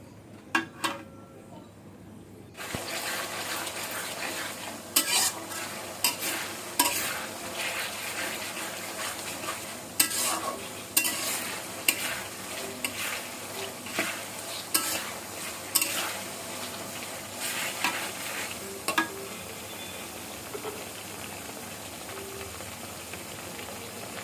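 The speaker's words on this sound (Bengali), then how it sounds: "সামান্য রসুন বাটা, মশলাগুলোকে ভালোভাবে কষিয়ে নিব।" Spices and garlic paste are stir-fried in a pan for hilsa pulao, with a steady sizzle broken by repeated scraping strokes of a spatula in an uneven rhythm, close and moderately loud.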